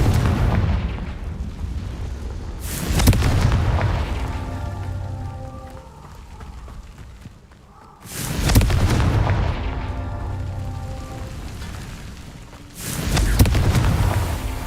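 Confringo fire spell explosions in the video game Hogwarts Legacy, three loud booming blasts a few seconds apart, each decaying into a crackling rumble with quieter magical ambience between them.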